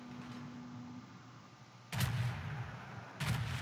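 Warship guns fire in World of Warships, two heavy booming salvos about a second apart, each a sharp loud blast with a rumbling tail over a low engine hum.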